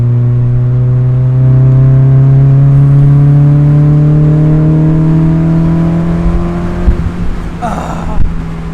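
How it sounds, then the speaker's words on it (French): Mazda MX-5 NA engine revving loud and close, with a steady rising drone, then crackling exhaust pops and backfires near the end. "il y a des retours à l'échappement"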